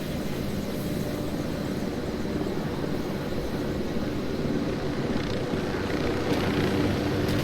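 A helicopter in the video game Ghost Recon Wildlands drones continuously with a rough, thumping rotor rumble at moderate volume, steady throughout.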